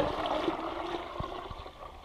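Clean water pouring into a small batch of peach-leaf-curl spray mix to dilute it, a steady broadband trickling and gurgling that runs continuously at moderate level, with a few soft low knocks.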